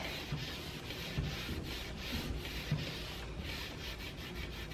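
A cloth spreads clear wax over dark wax on a chalk-painted wooden farmhouse hutch, giving soft, faint, rhythmic rubbing strokes close by.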